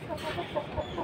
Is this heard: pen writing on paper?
no